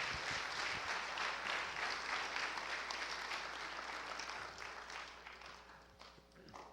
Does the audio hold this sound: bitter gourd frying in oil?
no